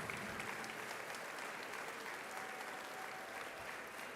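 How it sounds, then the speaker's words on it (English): A graduation audience at a high school commencement ceremony applauds, a thick, sustained wash of clapping from a large crowd held at a steady level throughout, with no talking over it. "Let me give them all a big round of applause"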